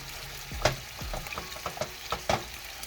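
Eggs cooking in a hot pan, a steady close sizzle with scattered pops and light scraping stirs.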